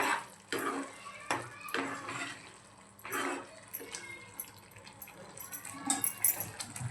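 Paneer matar masala being stirred in a pan, with a spoon scraping and knocking against the metal in irregular bursts over a soft sizzle, fairly quiet and close.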